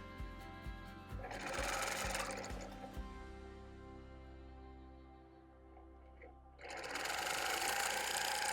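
Sewing machine stitching an orange peel quilt, a steady fast mechanical whir with rapid needle ticks in two runs separated by a quiet pause, close and clear, no talk.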